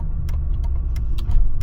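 Supercharged V8 of a Mercedes-Benz E55 AMG pulling hard under acceleration, a steady loud low rumble from inside the car with brief higher clicks and rattles over it.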